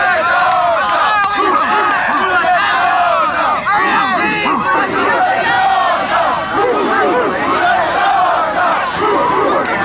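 A high school football crowd in Miami chants and shouts together at a state championship game, a loud, dense mass of voices with rhythmic calls rising and falling continuously throughout.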